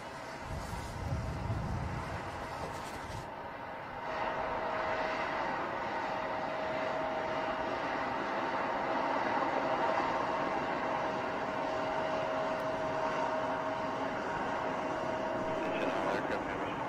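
A Boeing 777X airliner on its maiden flight makes a steady, broad engine roar from a distance, holding at a constant level throughout, with a faint tonal whine in the background.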